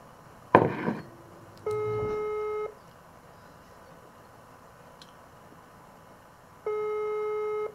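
WhatsApp outgoing call tone while a call is placed, two steady ringback tones about a second long separated by several seconds of near silence, preceded by a brief clunk of handling noise.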